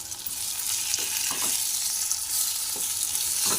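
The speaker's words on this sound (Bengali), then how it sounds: "এবার কেটে রাখা টমেটোগুলো আমি এর মধ্যে দিয়ে দিলাম।" Chopped tomatoes sizzle in hot oil in a pan for a fish kofta curry, a steady bright frying hiss with a few soft stirring scrapes, close and continuous.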